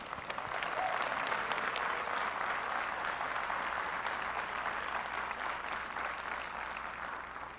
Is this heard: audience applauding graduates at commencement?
yes